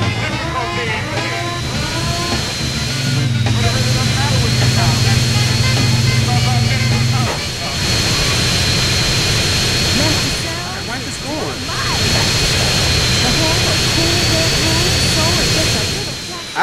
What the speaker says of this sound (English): This will be the first time we actually control a jet.